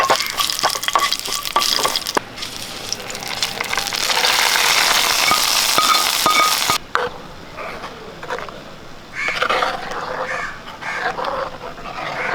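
Hot tempering of cut dried red chilies and curry leaves poured into a cucumber curd curry: a loud, hissing sizzle bursts out, holds for several seconds, then drops abruptly to quieter stirring and bubbling.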